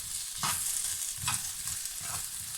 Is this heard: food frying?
yes